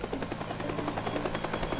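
Helicopter in the video game Teardown, a steady rotor whir with rhythmic chopping pulses at moderate loudness, heard alone without talk.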